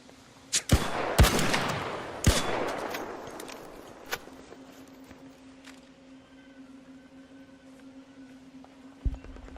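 Several sharp video game gunshots burst out in the first few seconds, then a steady low hum continues, with one more shot near the end.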